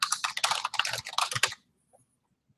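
Rapid typing on a computer keyboard while setting up a new blog, a close flurry of clicky keystrokes for about a second and a half before falling silent.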